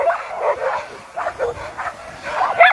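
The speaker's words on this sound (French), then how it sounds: "moi je tiens les chiens qui vont partir" Sled dogs bark and yip excitedly in a rapid, overlapping chorus before the start of a sled dog race in the mountains, loud and close with continuous restless barking.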